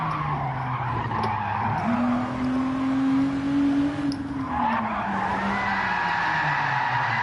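Tires skid and squeal as a car is handbraked through corners in Gran Turismo 7, a sustained loud screech rising and bending in pitch over a steady engine drone, with no talking.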